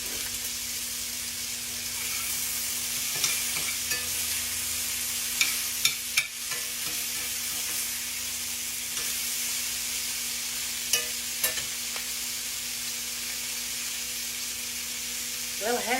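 Pork loin sizzles and crackles steadily in a hot pan, with occasional clinks of a utensil; a voice talks intermittently over the frying.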